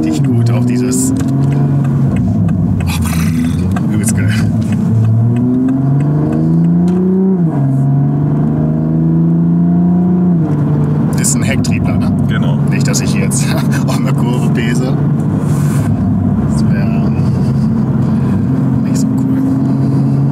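A Toyota Supra MK5's engine and exhaust burble deeply and rev up and down, with engine pitch rising and settling several times. The sound is close and loud, and voices seem faintly present at times.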